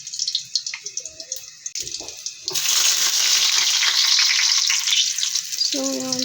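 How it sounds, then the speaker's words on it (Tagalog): Sardines hit a hot pan and break into a loud, steady sizzle that fills the last few seconds, after quieter clinks and handling sounds, with a brief voice near the end. "So yeah, so let's fry this first."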